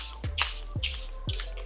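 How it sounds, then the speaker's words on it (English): Charlotte Tilbury airbrush makeup spray gives three short, close hissing bursts in an even rhythm, each a soft airy puff with a faint click as the nozzle is pressed. "I'm gonna go in with a little bit more of the airbrush spray by Charlotte's"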